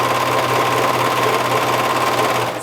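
A cover stitch machine runs continuously over thin drapey knit fabric near a seam allowance, a loud, steady close-up motor hum with rapid needle vibration that eases off at the end.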